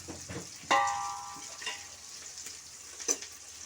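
Onions frying with salt in a pan for pulao, a soft steady sizzle with a sharper burst of crackle near the start and brief utensil ticks, no talk.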